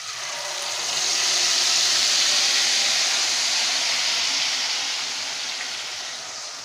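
A blended mixture of onion, tomato and yogurt hits hot oil with a loud, steady sizzle that swells, holds for several seconds and tapers off slightly. No voices are heard.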